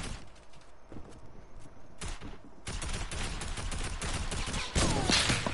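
Rapid bursts of gunfire, loud and crackling, in repeated volleys with a few single shots between, sounding like a game's weapons.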